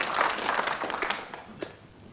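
An indoor bowls crowd applauds a good shot at a televised tournament, a burst of clapping that quickly thins out to a few scattered claps and fades.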